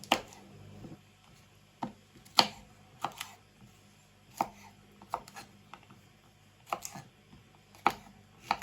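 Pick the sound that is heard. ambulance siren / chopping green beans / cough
chopping green beans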